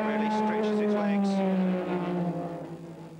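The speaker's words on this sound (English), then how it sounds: "On the banking, the Dino's engine really stretches its legs." A Ferrari Dino racing car at full throttle on the Montlhéry banking during a historic Grand Prix, its engine a loud, sustained tonal drone that sags slightly in pitch as it passes close by.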